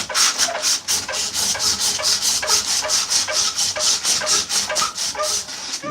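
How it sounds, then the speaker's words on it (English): Wood is sanded by hand with 400 grit sandpaper. Quick, even back-and-forth strokes make a close rhythmic rasp, about three strokes a second, with no talking. "So 220, or I'm sorry, 400 grit sandpaper."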